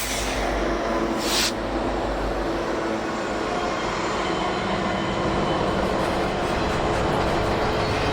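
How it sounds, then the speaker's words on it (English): Union Pacific double-stack freight train rolling through a town on Donner Pass in winter, a steady broadband rumble and rail noise holding loud and constant throughout with no talk. "The stack train from Yuba Gap came rolling through town a few minutes later."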